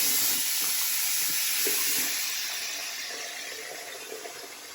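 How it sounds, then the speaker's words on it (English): Tap water runs steadily from a faucet into a sink while a child washes one hand, a broad continuous hiss with a few soft splashes, gradually easing slightly toward the end, with no talking. "going to show how to wash his one hand only"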